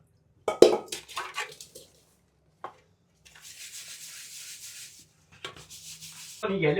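Someone scrubs an oily cooking pot by hand, making rough rubbing strokes in separate bursts with short metallic knocks between them, close and fairly quiet, with no talking.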